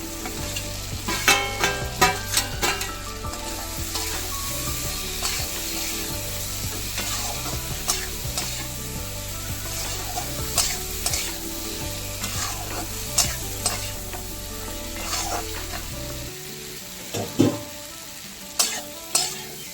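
Potato, papaya and raw banana being sautéed in a pan for a rohu fish curry, a steady sizzle with repeated spatula scrapes and clinks, ending in a few sharper knocks against the pan; no talk.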